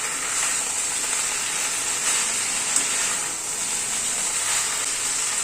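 Lentil fritters tossed into a pan of pumpkin-leaf curry give off a steady, close sizzle and hiss that runs evenly throughout with no break and no talking.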